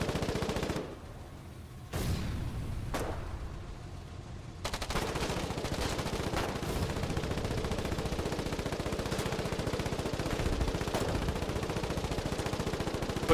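Machine gun fire in the video game Foxhole, rapid bursts of shots starting after a brief lull and then running continuously and loud, with a few sharper isolated cracks mixed in.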